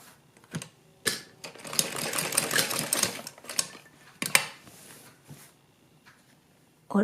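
A sewing machine stitches a sleeve in bursts of rapid mechanical clatter, one long run followed by shorter spurts and pauses.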